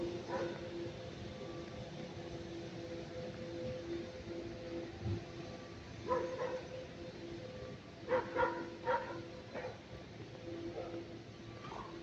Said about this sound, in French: le nombre de chiens qu'il y a ici, les amis, c'est incroyable.